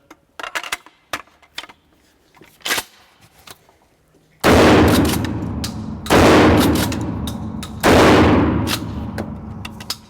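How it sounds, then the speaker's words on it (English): A Remington 870 DM pump shotgun fires three 2 3/4-inch Federal birdshot shells at an outdoor range: three loud, close booms, a second or two apart, each with a long ringing decay, after some quieter handling clicks. "All right, 3 shots, 2 3/4, Federal birdshot."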